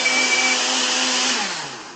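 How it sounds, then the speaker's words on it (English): A blender whirs loudly as it purees watermelon, a steady high-pitched motor whine that holds for over a second and then slows and drops in pitch as it winds down. "the thing about the watermelon and doing it in a blender is it gets real frothy"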